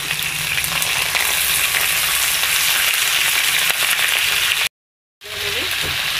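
Chicken sizzles loudly in hot oil with whole spices and bay leaf for a Rampur-style chicken kadai, a steady, dense frying hiss with no talk, broken by a brief total silence near the end.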